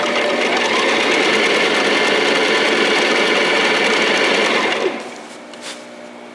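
A sewing machine runs steadily along a skirt seam for about five seconds, a loud continuous whirring stitch, then stops abruptly, leaving quieter room noise.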